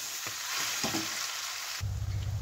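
Spiced potato masala with chaat masala and garam masala fries and is stirred in a pan, giving a continuous bright sizzle with scraping spoon strokes, close and alone, ending in a lower bubbling fry.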